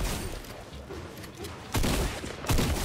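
Bursts of Fortnite gunfire in a presidential-protection match, dense rattling volleys that jump louder in two heavy waves partway through and near the end.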